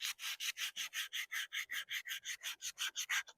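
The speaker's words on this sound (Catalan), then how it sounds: "I ara polimentarem, sobretot, per la part fina" Sandpaper rubbed back and forth along a leather sharpening strop, polishing its fine side: about eighteen steady, evenly spaced rasping strokes, close and loud, with no talking.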